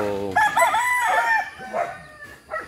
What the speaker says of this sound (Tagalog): Malaking manok po ito.